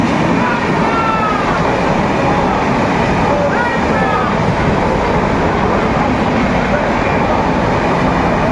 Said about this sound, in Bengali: এই দিকে এক্সপ্রেস ট্রেন পেরিয়ে যাচ্ছে